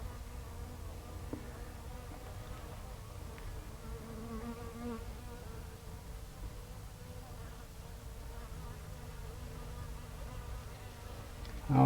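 A swarm of honeybees hums steadily and continuously up close while a queen is marked, with a constant droning buzz throughout and no talking.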